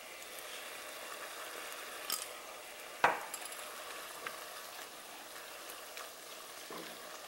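Ingredients with cracked pepper are stirred together in a pan, soft scraping and clinking of a utensil over a faint steady sizzle, with one sharper knock midway.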